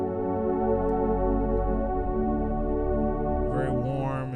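A warm, dark synth pad from the first Albino 3 preset holds one sustained chord, smooth and loud, with a brighter shimmer entering near the end.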